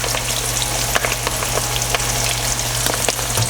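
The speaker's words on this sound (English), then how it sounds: "we're just gonna fry it up" Salt and pepper shrimp frying in hot oil in a batch, a dense, loud, steady crackling sizzle with sharp popping spatters throughout, close by and without voices.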